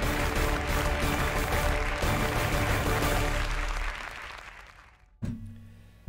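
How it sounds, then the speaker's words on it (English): Loud applause from many hands clapping, gradually fading out, then a brief burst of clapping near the end. "Not sure if the clapping is coming through."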